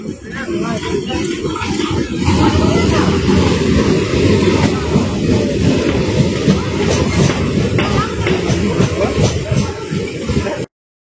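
A Sealdah–Canning local train runs at Piali railway station in the evening, a loud, close, continuous rumble with rattling wheels and clatter, with some voices mixed in, then an abrupt end.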